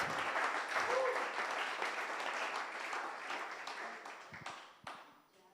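Sunday church congregation applauding together, a broad sustained wash of clapping that slowly thins toward the end, with a brief voice early on.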